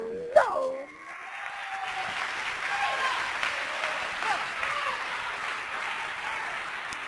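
Congregation at a Pentecostal church service applauding, a dense clapping wash that builds after a brief voice at the start and continues, with scattered voices beneath.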